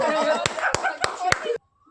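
Hands clapping in a slow, steady rhythm, four sharp claps under lively chatter and voices at an outdoor clay-pot-breaking game, ending abruptly in quiet.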